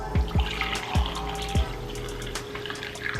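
Coffee is poured from a carafe into a mug, a liquid trickle with several soft clunks at the start, close and fairly quiet.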